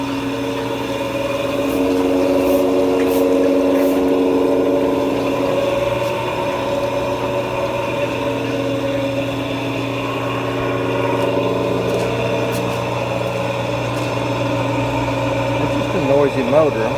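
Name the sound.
washing machine with noisy motor in spin mode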